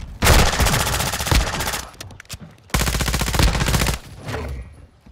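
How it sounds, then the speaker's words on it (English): Rapid automatic gunfire from a video game gunfight rattles out loud and close in two long sustained bursts, separated by a short lull. "Gunfight."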